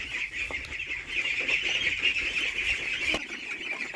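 Ducks being raised on a farm, freshly bathed after being let into the water, give a steady chorus of calls close by, continuous throughout with no talking.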